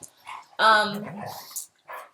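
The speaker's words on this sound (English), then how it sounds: "Sorry you can hear my dogs fighting right now." Dogs fighting indoors, a loud burst of growling and barking that rises sharply and trails off into snarls and whimpers, with someone speaking briefly before and after.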